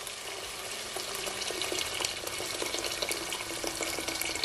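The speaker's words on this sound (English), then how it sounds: "I'm gonna add some water from my kettle, at least 3 cups" Water from a kettle pours steadily into a cooking pot for rice, a continuous close splashing trickle with no talk over it.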